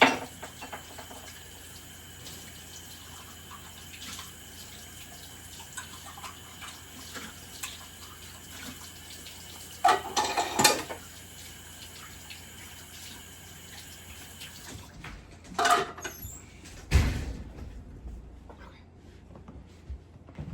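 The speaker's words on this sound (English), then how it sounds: "Let me rinse my cups." A kitchen tap runs steadily while cups are rinsed under it, with occasional clinks and splashes rising over the continuous flow of water.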